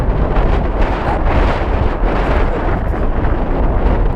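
Strong wind at 4,900 meters on a snowy volcano buffets the microphone in a steady, loud roar with gusty surges throughout, and no voices are heard.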